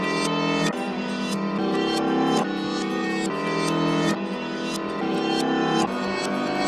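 A looped hip-hop beat plays with its drum chops reversed every half bar, giving a steady, loud pattern of swelling backward hits that cut off sharply in a repeating rhythm, with no talking.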